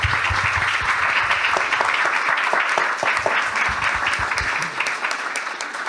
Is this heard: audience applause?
yes